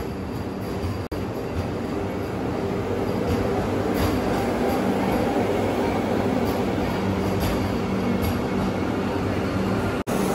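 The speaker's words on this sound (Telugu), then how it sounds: "మన ఇండియాలో ఇదే ఫాస్టెస్ట్ ట్రైన్ ఇది ప్రస్తుతానికి" A Vande Bharat express train, India's fastest, rushes past close by with a loud continuous rumble and rattle of wagons that stays steady for about ten seconds.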